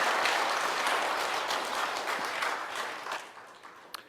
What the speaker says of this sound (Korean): 다 함께 뜨거운 박수로 격려해 주셨으면 좋겠습니다